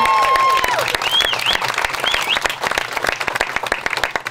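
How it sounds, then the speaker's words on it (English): Wedding guests break into a round of applause, loud and sustained over a few seconds, with whistles and cheers rising briefly above the clapping before it thins out. "I'd like you all to give them a round of applause and congratulate them"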